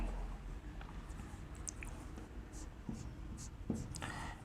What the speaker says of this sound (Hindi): तो वो सेंटेंस लिख लेते हैं हम लोग यहां पर